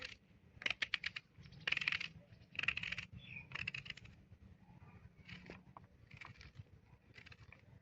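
A knife finely chops onions on a cutting board for aloo tikki, making quick clusters of close, crisp taps in an uneven rhythm with brief pauses between bursts, with no talking.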